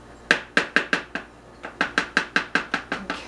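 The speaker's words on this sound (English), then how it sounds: "I've got a wooden spoon ready here too. And I just kind of stir them in." A wooden spoon stirs scone mixture in a bowl, giving two runs of sharp, rhythmic knocks and taps against the bowl. The sounds are close and crisp, with a brief pause between the runs.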